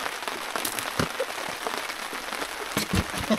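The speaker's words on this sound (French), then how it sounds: "puis on regarde la pluie." Steady rain patters and hisses across a lake during a storm on a canoe trip, with a few louder drops landing close by, heard alone with no voices.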